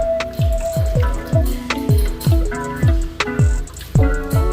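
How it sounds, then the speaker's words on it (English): A pot of neckbone and oxtail stew is stirred, giving a steady run of wet, gloopy plops and drips that repeat about twice a second, close and fairly loud. "I'm gonna go ahead and give that a good old stir."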